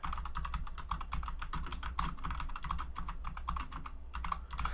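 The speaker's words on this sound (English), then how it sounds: "I have to be careful with this keyboard" Rapid, continuous clatter of typing on a computer keyboard, close and fairly loud, with dense uneven keystrokes and no talking.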